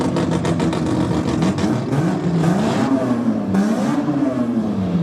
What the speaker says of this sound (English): about to go racing with the two hot rods